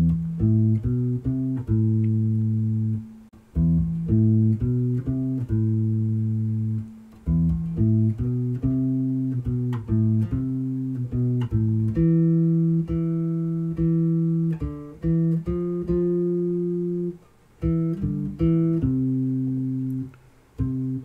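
A bass guitar plays the Bella Ciao melody, with clear, deep plucked notes in a steady phrase that repeats across the passage, loud and alone without talk.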